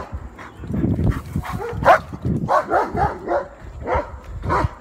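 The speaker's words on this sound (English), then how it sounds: "That's a big dog." A large dog barks repeatedly in quick, deep bursts nearby, with a few higher yelps mixed in.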